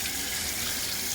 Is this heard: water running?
yes